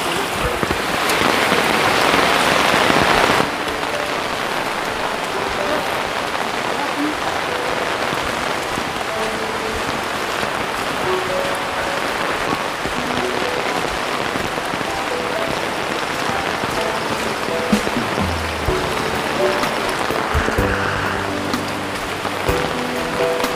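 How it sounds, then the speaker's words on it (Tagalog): Heavy rain pours steadily and loudly in a forest setting, a dense continuous patter that grows slightly rougher near the start and carries a faint low hum toward the end. "Saka lumakas yung ulan"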